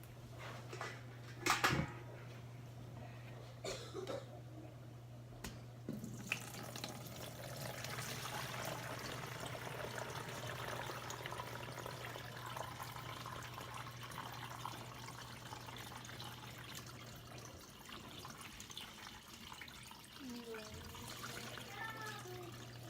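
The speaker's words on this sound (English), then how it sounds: "sometimes, I'm pouring up here and I can't see down here" Water pours from a pitcher into half-gallon glass jars in a steady, moderately loud stream lasting about twenty seconds, with a few sharp knocks and clinks of handling near the start.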